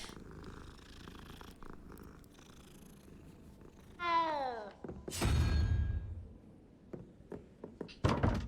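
A cat in the video game Hogwarts Legacy gives a clear, drawn-out falling meow over a low purr, with a few soft thumps and knocks around it and no talking.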